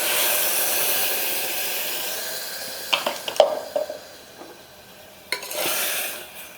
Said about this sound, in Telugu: కొంచెం పాలకూర పచ్చిదనం పోయేంత వరకు కొంచెం ఇలా మనం కలుపుతూ ఉండాలి.